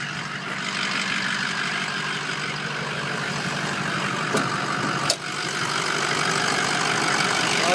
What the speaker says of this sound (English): I'm going to fire it up and open the hood.